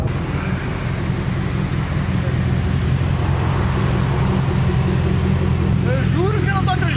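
A Camaro convertible drives with a steady, loud engine rumble and road noise throughout, and a voice briefly talks near the end.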